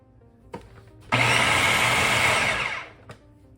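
A blender grinds barbecue marinade with orange juice in a loud burst of about two seconds, preceded and followed by light knocks.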